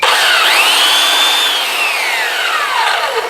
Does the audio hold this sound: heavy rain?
no